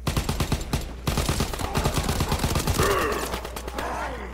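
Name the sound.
gunfire in WW2 Zombies video game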